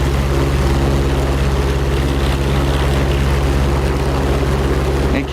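P-47 propeller engine idling in the DCS flight simulator, a loud, steady low drone with a strong harmonic hum and airy rumble, unbroken for several seconds before a slight dip at the end.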